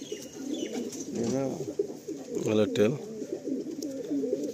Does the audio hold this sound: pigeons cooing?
yes